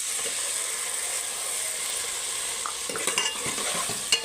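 Tomatoes fry in hot oil in a pan, giving a steady, soft sizzling hiss. A few scraping stirs of a spoon come through near the end, close by.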